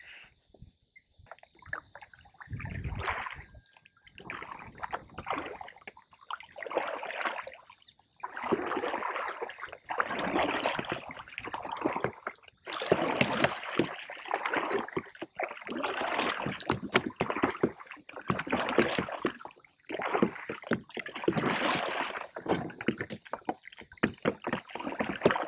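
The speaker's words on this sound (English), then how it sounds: "Alright, time to put in a little paddle work." A fishing kayak is paddled during a bass fishing tournament, with rhythmic splashing and dripping paddle strokes close by, repeating steadily over a light outdoor hiss.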